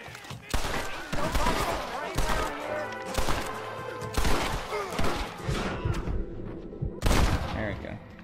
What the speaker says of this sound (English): Come on, shoot your gun already.